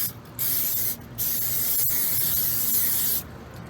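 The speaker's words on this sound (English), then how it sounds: "hit these grills with this cooking spray right quick" Bursts of cooking spray hiss onto the grates of a 70th anniversary Weber kettle grill, three close, steady sprays of about a second each with short pauses between them.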